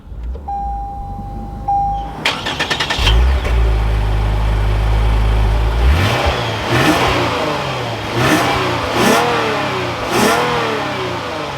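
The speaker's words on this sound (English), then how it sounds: "Now let's fire this up, take a listen to how this V6 sounds." A 2024 Lexus IS 350 F Sport V6 engine cranks and fires up, settles into a rough idle, then several quick revs rise and drop back, loud and close.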